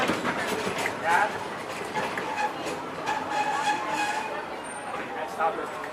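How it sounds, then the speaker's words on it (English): A Disney park railroad train runs along its tracks with a steady rumble and clatter of wheels, while people talk over the moving cars. "remain seated until the train comes to a complete stop"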